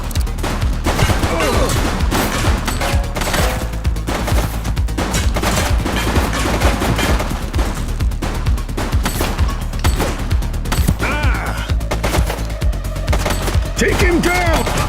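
Sustained gunfire in the police video game The Precinct, dense rapid shots and bursts filling the whole stretch, loud and close, with brief shouted voices mixed in.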